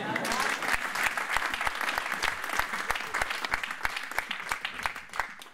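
A church congregation claps in dense, sustained applause that fills the room, with voices mixed in beneath the clapping.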